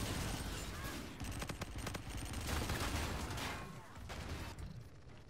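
Rapid bursts of automatic gunfire from a first-person shooter video game, dense overlapping shots rattling almost continuously for several seconds with brief gaps, fairly close and loud.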